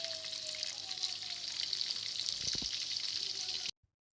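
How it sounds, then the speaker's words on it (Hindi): Pieces of fish frying in ghee for a Lahori-style masala fish fry give a steady, close hiss and sizzle that fills the whole clip, with a few soft knocks partway through before it cuts to silence. "हम 1 बाय 1 फ़िश के पीसीस घी में डालेंगे और फ्राई करेंगे"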